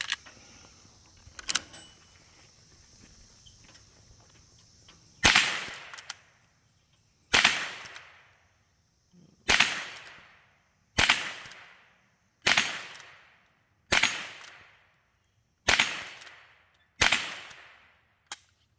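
.22 rifle shots fired at a round target outdoors, about nine sharp cracks spaced roughly two seconds apart after a quiet stretch, each loud report ringing out briefly with a short decaying echo.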